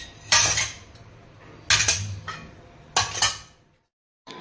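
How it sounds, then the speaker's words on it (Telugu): Steel dishes, pots and cutlery clatter and clink in three separate bursts as leftover vessels from fish curry are handled for washing, close by, with quiet pauses between and no talking. "ఇవన్నీ కడిగేయాలి గిన్నెలు"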